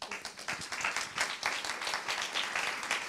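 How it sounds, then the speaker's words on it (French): Audience applause at a business conference: dense, steady crowd clapping that holds throughout at moderate level, with faint voices mixed in. "Je pense qu'on peut vous applaudir."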